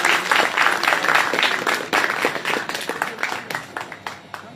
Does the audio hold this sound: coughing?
no